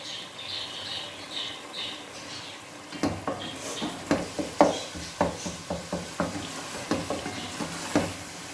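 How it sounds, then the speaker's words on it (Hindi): Masala frying in a pan, a soft sizzle at first, then a regular series of close spatula scrapes and taps against the pan over the steady hiss of hot oil. "और मसाले को अच्छी तरह भूनना है 3 से 4 मिनट तक"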